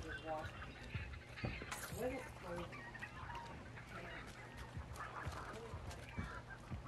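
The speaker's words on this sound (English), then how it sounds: "You just had to activate the chickens" Chickens cluck and squawk in the video game Hunt: Showdown, scattered fowl calls under a low steady hum, with players talking faintly in the background.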